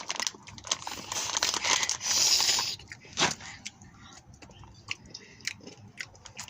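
Close-up crunching and chewing of hot Takis rolled tortilla chips, with crinkling of the snack bag, a dense burst of crunches in the first seconds, then slower, softer chews and small crinkles.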